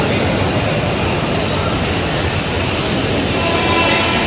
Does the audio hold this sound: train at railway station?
yes